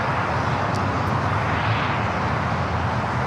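A United Airlines Boeing 777-200 jet taking off at LAX, a steady, loud broadband engine roar that holds constant without a break.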